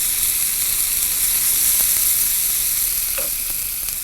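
Mustard seeds sizzle and crackle steadily as they are tempered in hot oil while making mango thokku, a dense continuous frying hiss with a few small pops, close and fairly loud, without speech.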